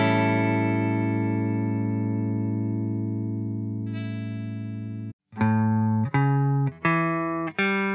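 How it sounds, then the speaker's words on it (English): A guitar rings out a dominant seventh chord that sustains and slowly decays, then plays the arpeggio as four separate clearly picked notes, with effects-coloured tone. "First I'll play the chord, and then I'll break it down and show you what the dominant 7th arpeggio will look and sound like."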